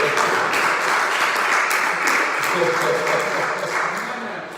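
A church congregation gives sustained applause at a worship service, the dense clapping filling the space with crowd voices and cheers mixed in. It fades slightly toward the end.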